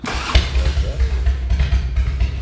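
A 20-year-old car engine idles during an idle adjustment, a steady low rumble with slight rises and dips in revs, running close and fairly loud with no voices over it.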